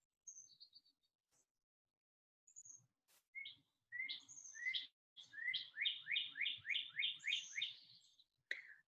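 Songbirds call outdoors, with faint scattered chirps at first, then building into a fast, even trill of repeated bright notes, soft and fairly distant.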